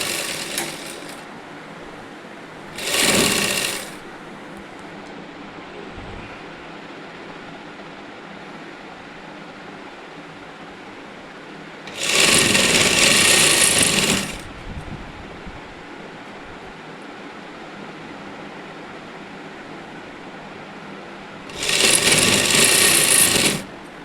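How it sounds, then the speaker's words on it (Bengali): A sewing machine stitches the folded hem of a housecoat in three separate runs, one short and two longer bursts of rapid mechanical whirring, with quiet handling between them and no talk. "যেদিকে স্টিকার মারা থাকবে সেই দিকটা টোটালটা সেলাই করে রেখে দেবেন"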